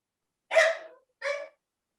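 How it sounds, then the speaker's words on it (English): Two sharp dog barks, close and fairly loud, about half a second apart, with silence around them and no talk. "your dog was barking"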